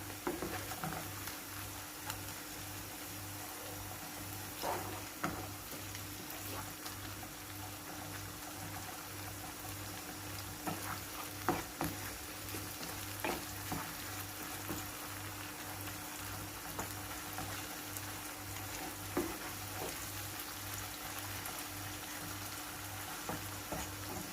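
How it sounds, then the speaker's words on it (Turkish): Pepper paste sautéing in a pan, sizzling steadily and softly throughout with occasional light stirring scrapes, a low-level fry with no voices. "Güzelce salçamızın kokusu gidene kadar kavuracağız."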